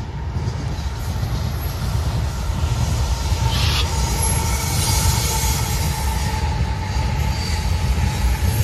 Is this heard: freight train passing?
yes